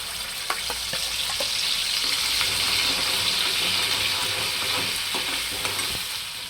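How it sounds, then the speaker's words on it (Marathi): Masala for spicy egg curry dropped into hot oil, a continuous loud sizzle and bubbling hiss with scattered crackles and stirring scrapes, no voices. "हे पहा तेल चांगलं गरम झाले मसाला टाकून घेते"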